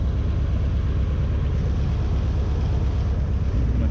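A 1991 Nissan 240SX 2.4L engine idles roughly with a forced misfire caused by a disabled injector, a loud, continuous low rumbling drone with uneven pulsing and no speech.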